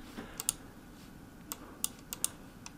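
Light typing on a computer keyboard, several soft, scattered key clicks with a space-bar tap, quiet and close, no talking.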